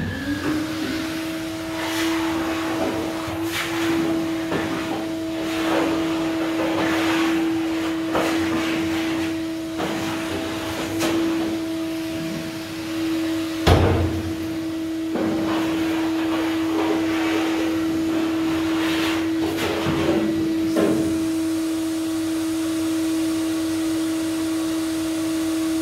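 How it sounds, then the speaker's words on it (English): A vacuum cleaner runs steadily at close range while hoovering out the interior of a rusty Willys Jeep MB, its constant motor drone broken by knocks and bumps of the nozzle against the body. "so I'm going to do a quick hoover out."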